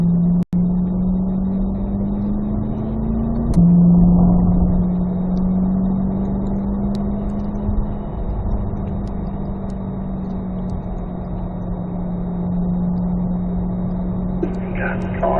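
A Corvette Z06 engine drones steadily inside the car on a race track, its pitch climbing and then dropping sharply at an upshift before settling into a sustained loud hum.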